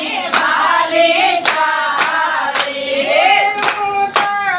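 Sharp, loud hand claps land in a steady rhythm about once a second along with a Shiva devotional bhajan, cutting through sustained singing voices and melody close by.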